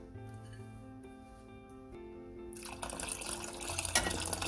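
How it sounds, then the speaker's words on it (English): Water is poured into a thick avarekalu sambar, a Karnataka dish. A faint stir and a few soft clinks come first, then a loud rushing splash and gurgle as the liquid goes in, building for a couple of seconds. "This is too thick, so we'll add water."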